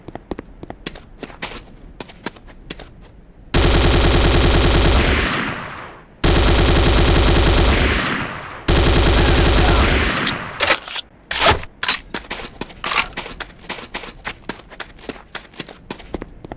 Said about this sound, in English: The next weapon is the Corbretti AR-70 Raptor automatic rifle.